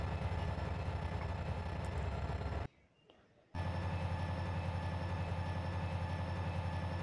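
A WDP-4 diesel locomotive in an Indian train simulator game runs with a steady, loud engine drone and low rumble. The sound drops out abruptly for about a second before the same drone resumes.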